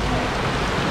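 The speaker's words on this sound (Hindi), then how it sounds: "और बारिश स्टार्ट हो गया" Steady rain falls on a forest trail near a waterfall cave in Dehradun, a dense, even hiss of drops close around with no breaks.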